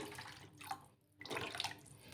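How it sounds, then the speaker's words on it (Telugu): Water being poured into a pot of fish curry made with coconut milk, a soft close splashing pour with a brief pause in the middle, fairly faint and alone. "ఇంకా కొంచెం వాటర్ అయితే వేస్తాను"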